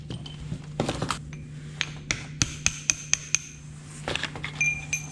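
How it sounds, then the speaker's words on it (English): Sharp metallic hammer strikes on a metal locking ring of a 1997 Jeep Wrangler TJ power steering gearbox, a quick irregular series of ringing clanks that then slows to separate blows, close up with no talking. "I want to hit that with a hammer and see if I can get it to break loose."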